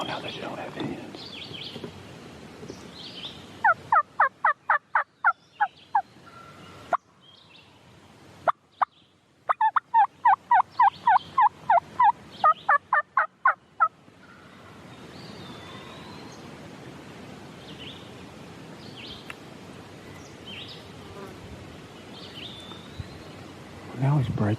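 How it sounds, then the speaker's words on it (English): A wild turkey gobbling outdoors during spring turkey season, two rapid rattling bursts in quick succession at moderate distance, with faint bird calls and quiet talk around them. "The turkey just gobbled a few times"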